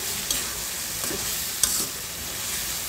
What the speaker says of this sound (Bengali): এই পর্যায়ে কিন্তু আমি ঝোলের জন্য জলটা দিয়ে দেবো।